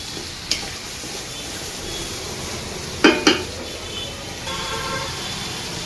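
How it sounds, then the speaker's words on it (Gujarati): Onions frying over a low gas flame in a pan for Punjabi chole, a steady soft sizzle with a few sharp clinks of a spoon or utensil against the pot, close and with no speech. "ડુંગળીને સહેજ ગોલ્ડન થાય ત્યાં સુધી ધીમા ગેસ ઉપર આપણે ચાર પાંચ મિનિટ પકાવીશું"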